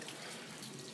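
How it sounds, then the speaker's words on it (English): Steady running water from a small outdoor fountain in front of a home, a continuous soft splashing wash that fills the whole moment with no breaks or talk. "if you're hearing that little fountain in the background, it's the fountain in front of my home, and there's running water."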